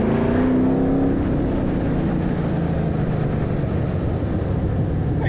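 An LS-engine sandrail revving on a dyno at about quarter throttle, a loud close engine roar that climbs in pitch and then holds a steady, sustained drone.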